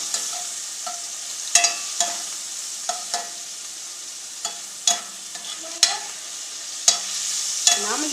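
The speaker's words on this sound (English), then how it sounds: "Mix it up, stir it, watch it, do what you need to do." Chicken sizzles steadily in a pan while a utensil stirs it, with sharp scraping clicks against the pan at irregular intervals over the constant frying hiss.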